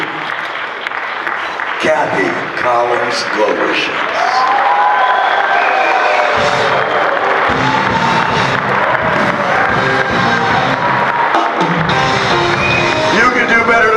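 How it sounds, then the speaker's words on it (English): Audience applause and cheering swell through a hall at the Atlantic City Boxing Hall of Fame award ceremony, a loud sustained roar of clapping with shouts, after an announcer speaks. "Ladies and gentlemen, give a warm round of applause to"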